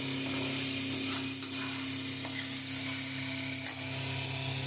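Oil hisses in a hot pan on a home stove while cooking a fish dish, a steady close sizzle with a constant low hum beneath and no talk.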